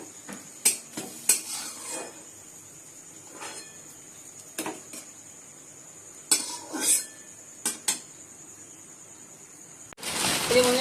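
Metal utensils scrape and clink against a frying pan while chana dal fritters are lifted out, a series of sharp separate knocks with quiet frying in the background, and a sudden louder rustle at the end.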